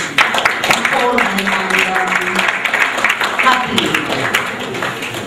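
An audience at an Abuja forum claps throughout, a steady wash of applause that runs under someone speaking loudly into a microphone.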